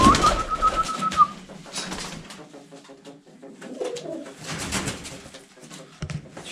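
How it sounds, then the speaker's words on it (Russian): Domestic pigeons in a loft give soft, repeated rolling coos close by, with a brief whistle-like tone at the start and some light rustling between calls; no talking. "Вот сидят, вот моя рука, голубь сидит рядом."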